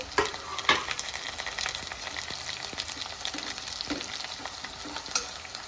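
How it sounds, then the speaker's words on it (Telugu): Tempering sizzles and fries steadily in a hot pan just before sesame paste is added for a sesame and raw mango curry, with a few sharp stirring clicks near the start and no talking. "ఎర్రగా వేగింది కదా బాగా వేగింది కదా"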